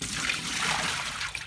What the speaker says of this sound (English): you steep it for a minute in some warm water and then it flows out black